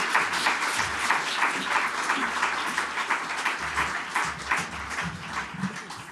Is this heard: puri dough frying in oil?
no